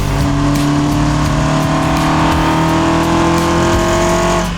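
A Citroen C2 engine revs loudly while accelerating in third gear, its steady droning tone climbing gradually and heard close up from inside the car with no talking.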